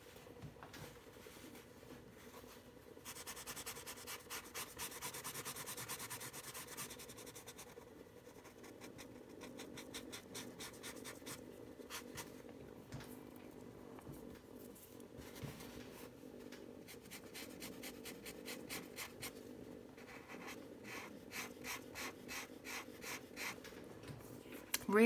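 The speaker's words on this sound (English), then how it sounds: "Really impressed with how lovely and thick and juicy these markers are laying down" Thick marker nibs colouring on a t-shirt, faint close scratchy rubbing strokes in repeated bursts, quiet and steady with soft background noise.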